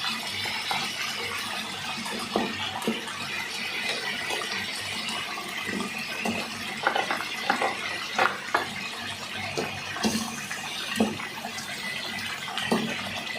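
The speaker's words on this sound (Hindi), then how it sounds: "ये देखिए जी हमारा पानी बॉईल होना शुरू हो गया है।" Water coming to a boil in a pot for kofta curry, a steady broadband hiss and bubble with scattered louder pops and clinks throughout, close and continuous, no talk.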